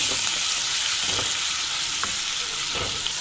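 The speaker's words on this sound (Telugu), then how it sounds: "ఈ ఉల్లికారాన్ని బాగా వేయించుకుందాం" Onion-chili paste frying in oil in a pan, a continuous close hissing sizzle with occasional stirring scrapes, no speech.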